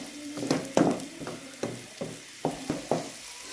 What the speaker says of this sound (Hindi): थोड़ा सा इसको भून लें हम।